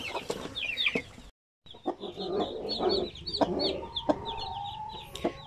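Basilan native chicken clucking in short bursts, with a few louder calls from other fowl nearby; a brief silent gap early on, the clucks carrying on steadily at moderate volume.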